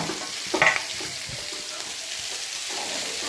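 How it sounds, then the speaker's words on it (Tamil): Sliced okra and onion sauté in a hot pan for a Tamil okra stir-fry, giving a steady close sizzle broken by a brief scrape and clatter as the vegetables are stirred. "இதுலேயே நம்ம வெண்டைக்காயும் சேர்த்து அப்படியே சேர்த்து வதங்கிப்போம்."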